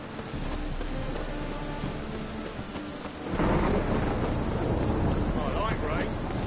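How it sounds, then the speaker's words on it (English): Steady rain patters in Witcher 3, then a deep rolling thunder swells and rumbles loudly for the rest of the scene, with no voices. "I like rain."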